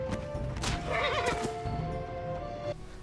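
Horse neighing loudly at a feeding pit in the Battle Realms strategy game, a long quavering whinny with clip-clop hoofbeats and low game ambience underneath.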